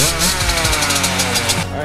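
Yamaha YZ85 dirt bike engine running loud and close, a rough pulsing motor note that stumbles and won't settle into an idle, with no talking.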